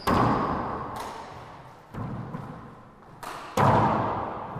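Racquetball kill shots in a women's final: several sharp, loud thuds of the ball smacking the front wall, each with a brief ringing court echo, spaced about a second apart with quieter shuffling between.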